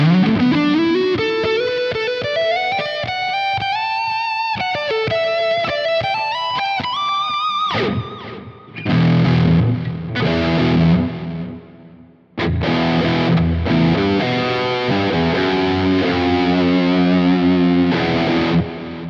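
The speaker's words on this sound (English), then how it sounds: "this is the lead with just the amp gain cranked" A heavily distorted electric guitar lead, amp gain cranked on the Nolly X plugin running on a Quad Cortex, plays a sustained bending melodic line, then breaks into loud, choppy phrases with brief gaps, no voices.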